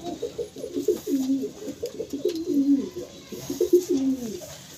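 Breeding pairs of flying pigeons coo close by in repeated, rhythmic bursts of low, rolling calls that overlap and continue steadily throughout.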